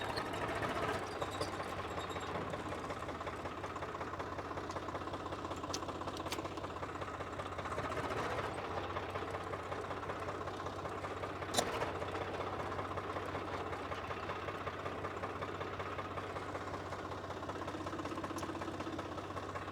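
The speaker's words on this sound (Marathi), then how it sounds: "आणि फायरिंग पण तुम्ही बघू शकता, एकदम स्मूथ फायरिंग आहे." A Swaraj 744 FE tractor's diesel engine runs steadily nearby, a continuous low, even rumble with a smooth firing rhythm that holds for the whole stretch, with no talking.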